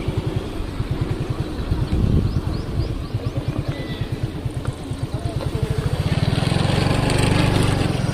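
A scooter rolls along on zero throttle, its small engine giving a low, rapid, even putter close by that thickens and grows slightly louder toward the end.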